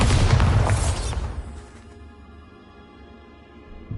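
A loud explosive blast from the Bombarda spell in the video game Hogwarts Legacy, a heavy booming burst that decays over about a second into a quieter rumbling tail.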